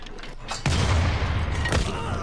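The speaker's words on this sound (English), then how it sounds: "Lovely artillery making its way down." Artillery guns firing in Civilization 6 during a coastal siege, with a burst of booming shots over a dense, rumbling battle backdrop and a second blast near the end.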